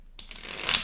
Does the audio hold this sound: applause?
no